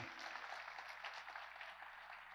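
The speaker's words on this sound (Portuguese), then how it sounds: "pode aplaudir" A church congregation applauds during a Portuguese-language sermon, a faint, even spread of many hands clapping at a distance with no voices over it.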